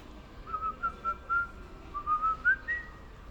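A person whistles a short, bright jingle melody alone, a string of clear rising and falling notes in two phrases, moderately close against a faint background.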